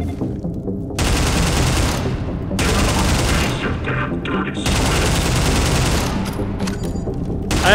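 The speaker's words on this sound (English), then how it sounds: "I have no reason to be shooting at them other than it's funny." Gunfire in the shooter game Entropy Zero 2, dense sustained automatic bursts in several long stretches separated by brief gaps, loud and close.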